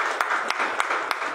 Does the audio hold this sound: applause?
yes